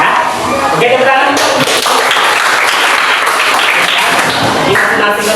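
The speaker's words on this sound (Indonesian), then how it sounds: "Oke, tepuk tangan." Classroom applause from a group of students, a dense steady clatter of many hands clapping that fills the whole stretch at close range, with voices mixed in.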